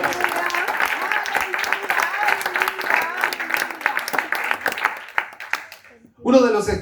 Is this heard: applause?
yes